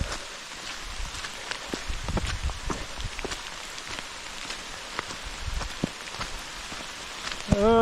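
Steady rain patters on surfaces around, with scattered heavier drops tapping close by, during a 100-mile trail race; moderate and continuous, ending with a brief sharp noise.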